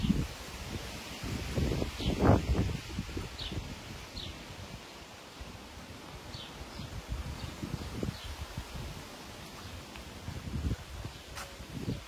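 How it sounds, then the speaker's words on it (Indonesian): On a windy morning in an Eastern European village, wind gusts rustle leaves in soft, uneven bursts, with one louder gust early and faint birds chirping now and then in the background. "Hari ini kebetulan cuaca sedang berangin, maka jika ada suara-suara yang terganggu oleh angin,"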